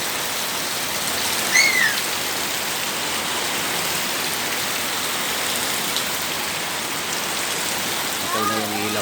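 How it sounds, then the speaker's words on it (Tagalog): Heavy rain pouring steadily at night, a dense even hiss of falling water on surfaces, constant and close, with a faint brief bird chirp early on. "Lakas ng ulan."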